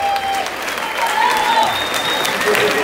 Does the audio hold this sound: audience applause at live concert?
yes